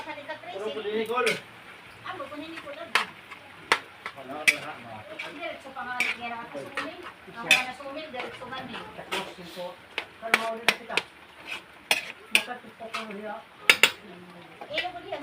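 A spoon stirs a pan of dish with small bird's-eye chilies, making irregular clinks and scrapes of metal on the pan while a person talks throughout.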